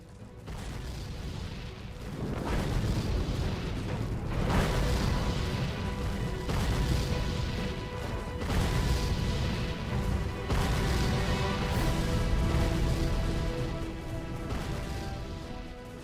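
Dense, continuous American Civil War battle noise from the video game History Channel's Civil War: Secret Missions, with booming explosions and rapid gunfire layered over an orchestral score, loud and sustained throughout.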